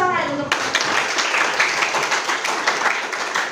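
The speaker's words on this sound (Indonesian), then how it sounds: "Kita berikan tepuk tangan untuk" Classmates applaud a student group at the close of its maths presentation, a short burst of scattered clapping filling the room after a brief voice at the start.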